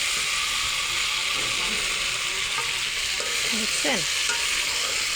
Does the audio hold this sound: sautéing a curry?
yes